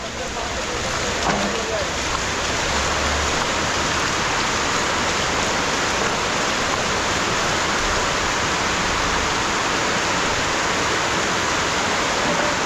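A vehicle pushes through deep floodwater on a flooded road, a broad, steady rushing wash of water lasting throughout, loud and continuous with low engine rumble beneath.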